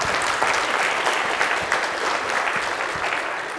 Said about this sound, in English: Let's give Tony Starr a round of applause.